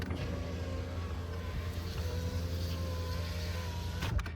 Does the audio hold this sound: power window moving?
yes